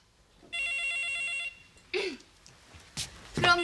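An electronic phone ring trills steadily for about a second, then a few brief knocks and clatters follow, with faint sounds of movement nearby.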